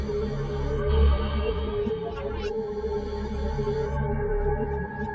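A weird alien-like sound effect, reversed and pitched down in FL Studio, plays as a dense, continuous droning texture with a rising sweep midway, steady and fairly loud for about five seconds.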